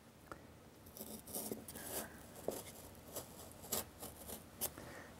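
Foam being cut out by hand to make a recess for a magnet to rest in: faint, close scratchy slicing and scraping strokes in irregular bursts, quiet and without talk.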